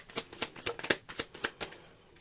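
Tarot cards riffled and shuffled in a quick series of about eight crisp, close bursts of shuffling, each a short papery flutter, with no talking.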